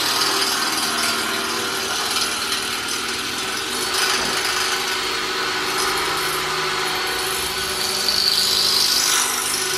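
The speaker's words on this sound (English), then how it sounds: "I'll just try to drill around it so I can get it loose." A drill grinds around a broken-off bit jammed in a part during a Subaru turbo install, a loud, continuous rasping whir close by that strains and shifts slightly in pitch, with no talking.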